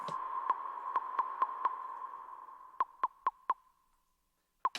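Dry synth verse lead with its reverb switched off: a run of short, evenly spaced staccato plucks over a held tone, a brief pause, four quick notes, then a fading gap before one final stab.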